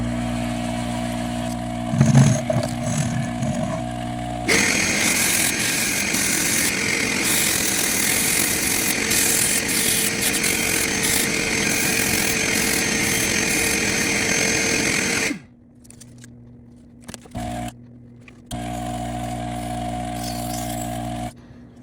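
A pool cue shaft being sanded with 220-grit paper after trimming high spots, heard as a loud, steady broadband rasp lasting about ten seconds, with quieter handling noises before and after.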